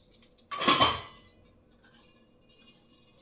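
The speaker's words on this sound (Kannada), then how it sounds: "ಒಂದು ಅರ್ಧ ಟೀ ಸ್ಪೂನ್ ಸಾಸಿವೆ ಹಾಕ್ತೀನಿ" Half a teaspoon of mustard seeds hits a pan for masala idli, giving one sharp rattling clatter followed by faint scattered crackles and pops as the seeds settle, close and alone without talk.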